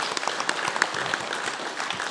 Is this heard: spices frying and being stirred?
no